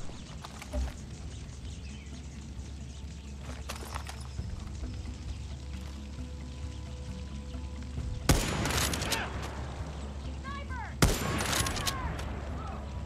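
Sniper and other gunfire in the video game Far Cry 6, two sharp loud bursts of shots late on over a low steady game ambience.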